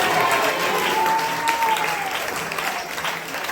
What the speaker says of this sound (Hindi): बहुत सारे लोग आनंद में प्रवेश कर रहे हैं, ताली बजा के तारीफ कर रहे हैं।